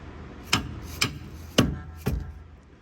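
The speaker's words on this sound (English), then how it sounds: "What I really recommend is getting a mallet and then just tapping it" A mallet taps four times at an even, half-second rhythm on a bolt in a 2010-2016 Genesis Coupe's end link. Each strike is sharp, close and solid, with no talking.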